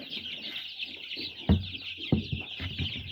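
Chickens cluck at a 200-bird hatchery, a steady crowd of overlapping hen calls with a few louder, sharper clucks standing out close by against a constant high chatter.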